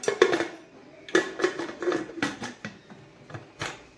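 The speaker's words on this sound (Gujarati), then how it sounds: "તો આપણે હવે કુકરને બંધ કરી દેશું" A pressure cooker lid is clanked shut over boiled potatoes in a home kitchen, a series of short metallic knocks and scrapes scattered close by over a few seconds, with no talking.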